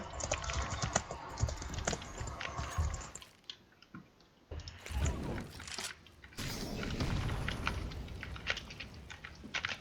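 Rapid, uneven clatter of keys being struck on a computer keyboard, close and continuous, with a brief lull midway before the tapping resumes.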